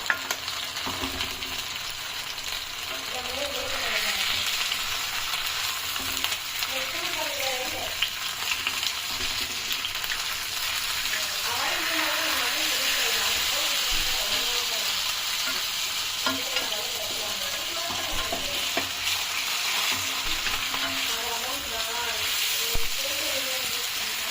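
Fish frying on a tava gives steady, close sizzling and crackling throughout, with faint background voices and occasional stirring or scraping.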